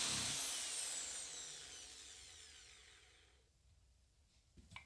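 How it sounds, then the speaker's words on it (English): A power drill fitted with a masonry bit, used to enlarge holes, whines loudly up close and then winds down, fading over several seconds before a soft knock near the end. "I then enlarged the holes with the masonry bit."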